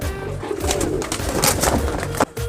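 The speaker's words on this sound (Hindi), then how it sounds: "ये इंडियन कबूतर है" An Indian pigeon at a breeder's loft coos steadily up close amid a dense, busy wash of sound from other birds.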